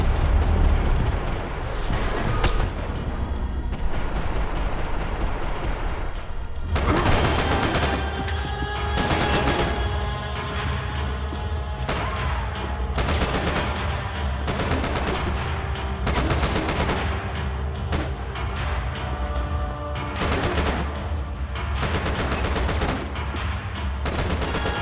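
Sustained gunfire in a shooting video game, dense bursts of automatic fire and heavy booms rolling on continuously at loud, close range under game music and effects, with no speech.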